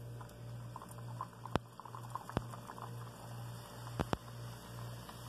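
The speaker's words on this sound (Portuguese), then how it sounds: "Agora eu vou começar a fritar." Dough frying in oil kept at moderate heat, a steady low sizzle with soft crackle and a few sharp pops.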